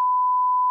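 A single sustained pure-tone bleep, loud and steady, lasting under a second before cutting off.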